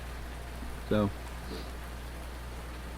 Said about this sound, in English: I've never had it rain on the first day until now.